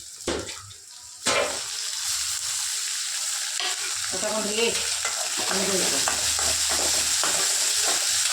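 Onions and tomatoes sizzle steadily in a hot pan, a loud continuous frying hiss with a few stirring scrapes, no talking.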